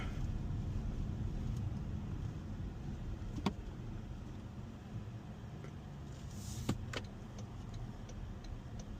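A Toyota Tacoma pickup in sport mode cruises with a steady low road and engine rumble from inside the cab, broken by a couple of faint clicks and ticks; no one speaks.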